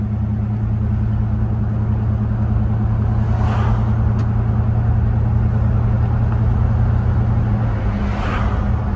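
A 1968 Buick Electra engine hums steadily as the car drives along, with a constant low rumble and droning road noise throughout and no talking.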